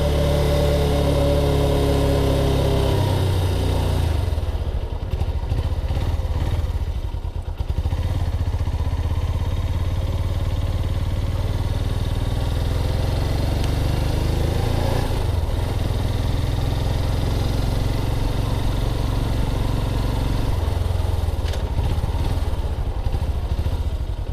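A Suzuki GS500 motorcycle engine idles steadily while warming up, a close, continuous low rumble at even loudness for the whole stretch, with no talking over it.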